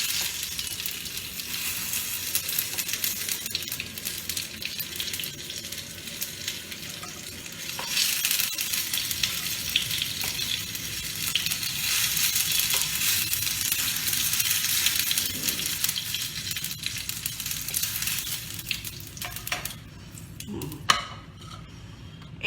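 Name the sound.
garlic frying in oil in a pan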